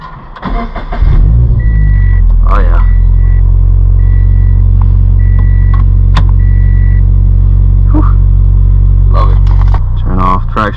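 A Subaru BRZ, fitted with a Works Bell quick-release steering wheel, sets off as its engine settles into a loud, steady idle drone, with clicks and knocks from inside the cabin and a brief voice near the start.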